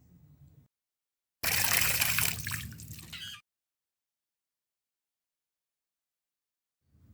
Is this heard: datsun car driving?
no